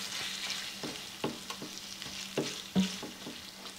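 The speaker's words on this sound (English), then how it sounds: "the ground beef is browning up nicely" Ground beef browns in a skillet with a soft, steady sizzle, while a utensil scrapes and stirs through it in repeated short strokes, close and fairly quiet, with no talking.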